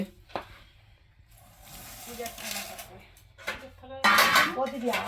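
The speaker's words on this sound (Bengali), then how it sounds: "তো মা এখানে বিরিয়ানি কাটছে" Biryani cut and portioned with metal utensils at a puja household gathering; clinks and scrapes of serving spoons on pots and plates in brief bursts, with voices talking nearby.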